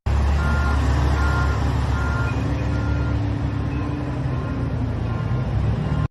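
A military armoured brigade recovery truck pulls two flooded municipal buses out of water at a city junction, its heavy engine giving a loud, steady, close rumble that runs unbroken the whole time.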